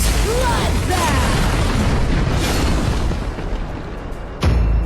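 A tower is destroyed in a video game with a loud, sustained rumbling explosion that fills the scene, easing briefly before a final sharp burst near the end.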